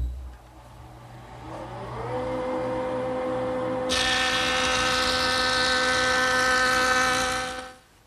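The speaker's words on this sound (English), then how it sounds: "I'm going to make one pass over the joiner, a 32nd of an inch on each edge" A jointer motor spins up and settles into a steady whine, then the cutterhead bites into the edge of a large wooden panel in one continuous, loud pass before it ends abruptly; no talk.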